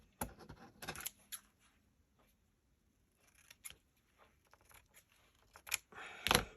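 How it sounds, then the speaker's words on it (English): Sharp scissors snipping paper while making large journal tags, a few crisp irregular cuts in a quiet room, with short bursts separated by pauses and a louder snip near the end. "It's nice that these scissors are still sharp."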